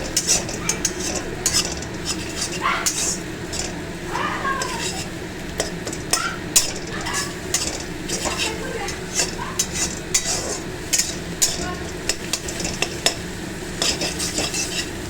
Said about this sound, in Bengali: ডিমটা ফেটিয়ে নিয়ে ওর সঙ্গে একসঙ্গে ভাজা হবে